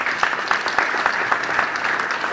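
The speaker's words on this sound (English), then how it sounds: "can we just clap for them?" Audience applause at a memorial gathering, a steady wash of many hands clapping throughout, fairly loud and close, with no talking.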